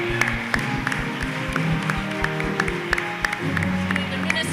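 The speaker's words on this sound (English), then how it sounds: "So please, a big round of applause," A forum audience in a theater applauds candidate Tom Goldstein at a St. Paul mayoral forum, steady crowd clapping with sharp individual claps standing out over a background voice, continuing for several seconds.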